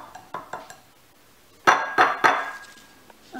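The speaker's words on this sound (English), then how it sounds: "Can you crack it right here on the bowl?" An egg is cracked against the rim of a bowl: a few faint taps, then three sharp, close clinks in quick succession, with no talking.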